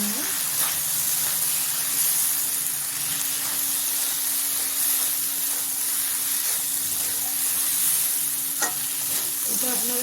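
Rice seasoned with salt and turmeric sizzles and fries in a pan for khichdi, a steady bright hiss with occasional stirring scrapes, close and continuous with no talk over it.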